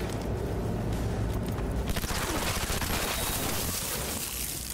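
Rapid bursts of SMG fire in Cyberpunk 2077, a dense, loud rattle of shots that grows heavier midway and keeps going with no talk over it.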